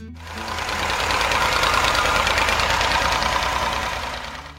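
A Massey Ferguson 135 utility tractor engine runs steadily and loud, a dense rattling mechanical chug that fades in at the start and eases off toward the end, with no voices.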